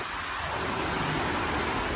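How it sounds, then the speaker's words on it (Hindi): Heavy rain pours down at an outdoor birthday party, a dense, loud, continuous hiss with no break and no voices. "केक काटे से पहले अंधाधुंध बरसात"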